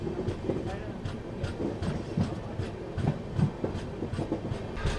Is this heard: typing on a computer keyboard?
no